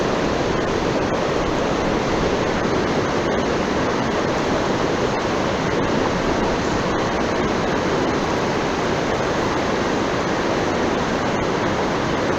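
Fast-flowing river water at a salmon and steelhead fishing spot, a steady, loud, close rush of churning water that holds unbroken throughout with no voices over it.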